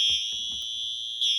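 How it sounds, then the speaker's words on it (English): A building fire alarm blares with a steady high-pitched electronic tone that dips briefly and then returns loud, with faint thumps underneath and no talking. "I want to smash the stupid alarm."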